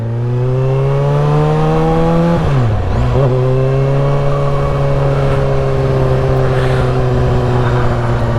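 A supersport motorcycle engine runs close and loud in a steady, buzzing drone; its pitch dips briefly about three seconds in, then holds an even, sustained note with light throttle.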